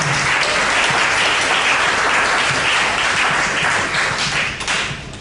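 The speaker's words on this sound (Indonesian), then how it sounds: "Kita beri aplaus terlebih dahulu" An audience at a university lecture by a company CEO claps in a dense, loud burst of applause that stays even before thinning slightly toward the end.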